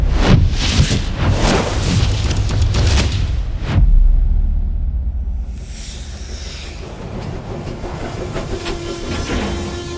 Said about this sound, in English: The train stops